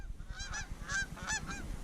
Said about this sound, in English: They're all landing right